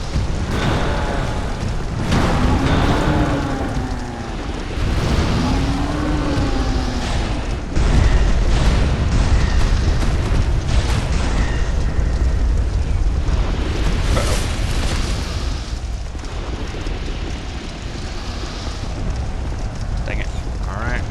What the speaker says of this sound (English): Take a drink in case there's another barrage